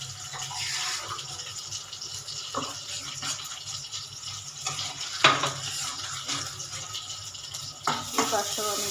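Coriander, chili and turmeric powders are sautéed in a pan for a mutton and fish dish, with a close steady sizzle, spoon scrapes and clatters against the pan, and occasional knocks.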